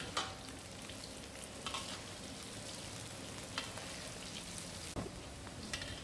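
Bitter gourd slices coated lightly in gram flour frying in a little oil, a steady close sizzle throughout with a few sharper pops and crackles, no talking.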